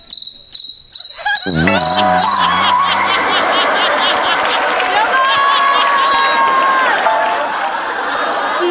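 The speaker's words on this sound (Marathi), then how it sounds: "मगाशीच्या रातकिड्यांचा आवाज आहे" Crickets chirp in rapid, high pulses at a comedy stage show, clear at first and then partly covered by voices and crowd noise.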